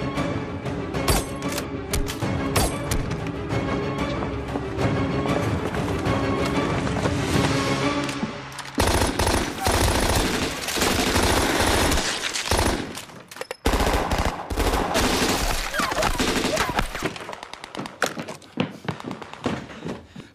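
Gunfire in a film ambush: dense, loud, sustained bursts of automatic fire with rapid cracks and thuds, a brief lull around the middle before the shooting resumes, continuing almost throughout.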